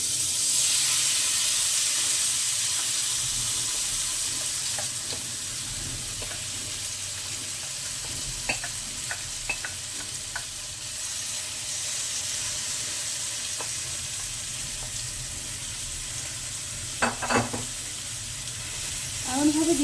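Murola fish paturi mixture sizzling steadily in a hot pan, a soft continuous hiss with occasional clinks and scrapes of a utensil, fairly quiet and heard alone with no voices.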